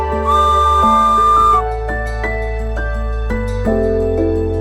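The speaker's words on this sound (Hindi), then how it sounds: "सुबह की शुरुआत टॉय ट्रेन की सीटी से होती है" A steam toy train on the Darjeeling hill railway gives a long, steady, high whistle. A rumbling engine and musical tones run underneath and carry on after the whistle stops.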